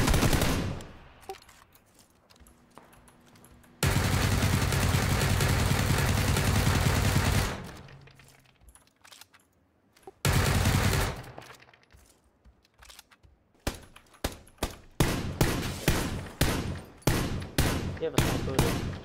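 Gunfire in a battle royale shooter game: a long sustained burst of automatic fire, a shorter burst later, then a rapid run of sharp separate shots near the end, with faint speech in the quiet stretches.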